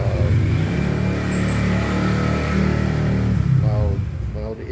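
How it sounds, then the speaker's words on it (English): A 125cc motorcycle fitted with a loud muffler passes on a street in Cabanatuan, a close, rough engine roar that swells and then fades, with voices talking over it. "They think it's cool to have loud mufflers on a 125, like it makes it any faster."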